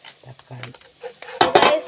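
Metal lid set onto a cooking pot of chicken biryani in a home kitchen, with light clinks and scrapes before a louder, close clatter of metal on metal.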